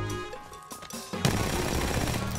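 In Apex Legends, a player wall-jumps onto a ledge and opens fire straight away, and a dense burst of rapid gunshots cuts in halfway through and carries on to the end.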